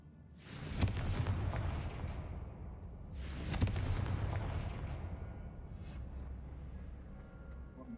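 Confringo blasting spell explosions in Hogwarts Legacy: two loud booming blasts about three seconds apart, each with a sharp crack and a long rumbling decay, then a fainter pop later.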